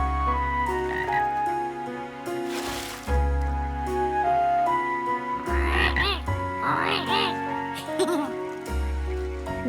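Cartoon frog croaking at a woodland pond, several bursts of bubbly, warbling croaks in the middle of the clip over continuous background music.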